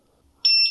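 A Begode T4 V2 electric unicycle gives a single sharp, loud, high-pitched electronic beep that holds steadily for a moment, with near silence before it.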